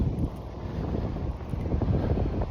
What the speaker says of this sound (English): Damn, it's windy as hell.